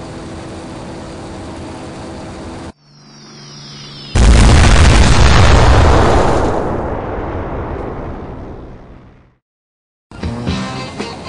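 Bombs from an RDP DB7 bomber burst on target in a flight simulator game: a loud, heavy explosion that rumbles and slowly fades over several seconds, preceded by engine drone and followed by quieter aircraft noise.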